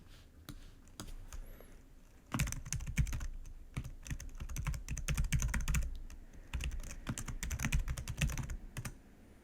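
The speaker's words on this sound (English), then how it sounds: "Type in your email address," Fast clicking keystrokes on a computer keyboard while an email address is entered, close and crisp, in irregular runs that grow denser after a quiet start, with no talking.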